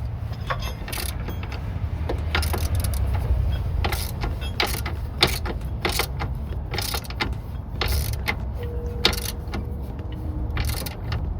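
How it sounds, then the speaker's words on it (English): A hand ratchet tightens brake bolts during a rear rotor and pad change on a car, giving steady close clicking and mechanical rattles over a constant low hum, with no talking. "you hold your ratchet still"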